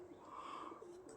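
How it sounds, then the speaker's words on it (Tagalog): Pigeons on a foggy rooftop in Slovakia, a single faint, soft cooing call heard at a distance. "Kalapati, dami. Yan, nasa bubong."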